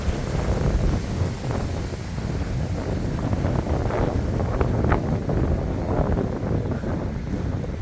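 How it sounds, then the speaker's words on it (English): Strong wind buffets the site of an abandoned mine, a steady broadband roar with gusting surges and rattling as a loose wall shifts, loud and continuous throughout with no talking. "And there comes the wind."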